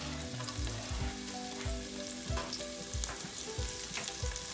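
Onions fry with ginger and garlic in a pot for chicken tinola, a dense steady sizzle with repeated low stirring thumps and scrapes, close and continuous, no talking.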